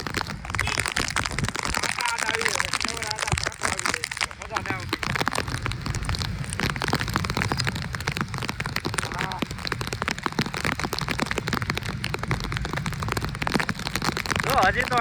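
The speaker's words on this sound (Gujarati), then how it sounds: "ભાવનગરમાં પહેલો વરસાદ છે ભાઈ." First rain of the season in Bhavnagar, a continuous dense hiss of rain falling on surfaces, steady and loud throughout.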